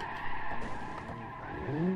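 A Covert car in BeamNG.Drive brakes hard during a time trial, its tires squealing and skidding in a loud, sustained screech that climbs in pitch near the end.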